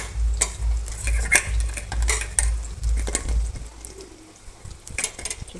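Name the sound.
thankuni leaf fritters frying in a pan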